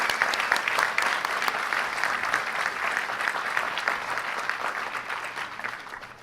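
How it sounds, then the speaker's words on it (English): Convention audience in a hall gives a round of applause, loud sustained clapping with individual claps audible, fading slightly toward the end. "Let's go ahead and give them a round of applause"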